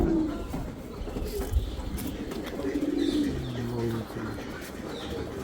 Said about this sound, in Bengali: আরমান কোস্টার ইনব্রিড কবুতর